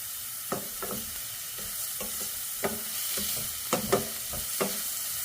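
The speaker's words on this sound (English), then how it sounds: "I'm going to add my carrot, celery, and shallot. And I'm going to start to saute this." Carrot, celery and shallot with a pinch of salt sautéing in a pan, a soft continuous sizzle punctuated by several sharp stirring scrapes and clacks, nearby and with no talking.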